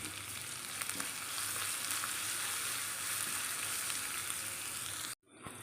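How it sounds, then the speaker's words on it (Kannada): Ground masala paste for rasam fries steadily in a hot pan, a dense continuous sizzle with faint stirring scrapes throughout, close and loud, cutting off abruptly near the end. "ನೋಡಿ ಎಷ್ಟು ಚೆನ್ನಾಗಿ ಫ್ರೈ ಆಗ್ತಾಯಿದೆ."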